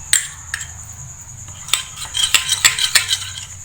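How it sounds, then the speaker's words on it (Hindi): Spices, chilli powder, ground poppy seeds and ground almonds being mixed into a beef marinade for Bihari kebabs, with a series of close, sharp utensil scrapes and clinks against a bowl, irregular and without talk. "इसको अच्छी तरह मिक्स कर लेना है"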